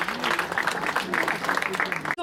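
An audience at the Conseil économique applauds in a steady, dense wash of clapping that lasts throughout, then cuts off abruptly at the end.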